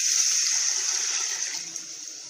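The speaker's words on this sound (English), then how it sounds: "Now I put water there." Water pours steadily into a cooking pot while making benachin, an African rice dish, giving a continuous bright splashing rush that fades slightly toward the end, with no talking.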